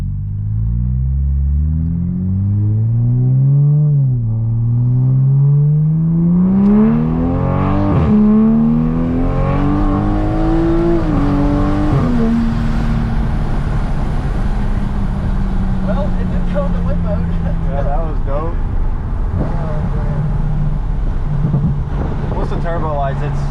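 Toyota Supra MK5 with a Tomei Type-R single-exit exhaust in sport mode, droning deeply as it cruises and rises in pitch through several light accelerations, heard from inside the cabin with a voice talking.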